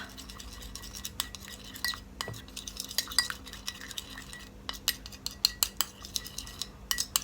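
Utensil stirring an egg and coconut oil face mask mixture in a bowl, with repeated soft clinks and scrapes in an irregular rhythm, close and fairly quiet, no talking.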